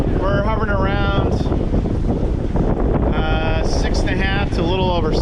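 A sailboat under way in steady wind near Catalina Harbor, with loud, continuous rushing wind and water noise close at the microphone, while a voice talks over it intermittently.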